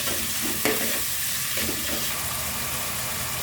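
Onions with salt and peanuts frying in a pan for pulihora, a dense continuous sizzle with a couple of light stirring scrapes, close and fairly loud, no voices.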